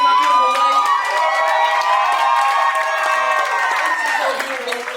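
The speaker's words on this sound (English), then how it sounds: "please, just give it a round of applause" A live audience at a talk show breaks into loud applause mixed with whooping cheers and shouts, holding steady for several seconds before easing off slightly at the end.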